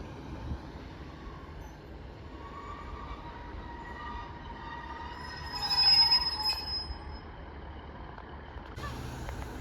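A Transport for Wales passenger train pulls into Grangetown station, a low rumble of wheels on rails with a rising squeal of wheels and brakes midway before it settles, heard at moderate distance without talk.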